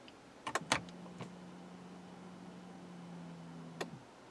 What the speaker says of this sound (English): You can hear the fuel pump running.